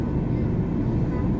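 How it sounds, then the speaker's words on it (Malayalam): An IndiGo airliner taxis slowly on the apron, a steady broadband engine rumble heard at moderate distance without a break. "നമ്മുടെ അടുത്ത് കിടന്ന് ഇൻഡിഗോയുടെ ഫ്ലൈറ്റ് എടുക്കാൻ തുടങ്ങി."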